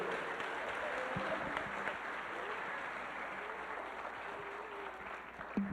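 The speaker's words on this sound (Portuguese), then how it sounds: "Você pode aplaudir a Jesus pela vida de quem está em casa celebrando?" Steady, distant clapping from a church audience, continuous and fairly faint, with a faint voice under it.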